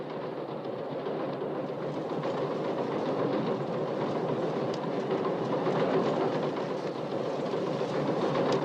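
Passenger train rolling along rails approaching Oceanside station, a continuous steady rumble with faint clatter, heard from inside the car at an even level throughout.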